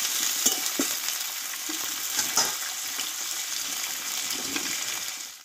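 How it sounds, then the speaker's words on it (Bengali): Drumstick stems and potatoes stir-frying with spices in a pan give a steady, close sizzle with scattered scrapes and soft clatters of stirring, no voices. "দেখো ডাঁটা আর আলুটা ভালোভাবে কষিয়ে নিয়েছি।"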